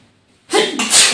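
A single sharp, close sneeze bursts out after a moment of near silence in a home kitchen, with a breathy intake leading into the loud explosive release.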